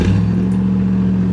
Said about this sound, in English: I guess we'll hop in the LTD and start it up.